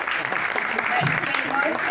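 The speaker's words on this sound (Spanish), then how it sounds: "Por favor, denle un aplauso Eduardo al Ramón." Audience at a book presentation applauding the illustrator: a brief burst of clapping from the room, mixed with a speaking voice.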